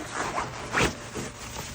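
A pair of shoes is zipped into a compartment of a BAGSMART budget travel backpack, giving a few quick, close zipper rasps with one louder pull near the middle.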